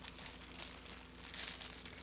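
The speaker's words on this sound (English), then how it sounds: "let's take this out of the plastic" Plastic wrapping being peeled and crinkled off by hand from a Dooney & Bourke Florentine leather messenger bag, giving a steady, soft rustle and crackle throughout at low level, close by.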